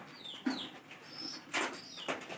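Pigeons in a loft give soft, faint coos alongside a few quick bursts of wing flapping, fairly quiet and close with no talking.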